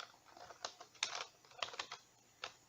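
Light, quiet typing on a computer keyboard, a sparse irregular patter of individual key clicks with small pauses between them, no voices.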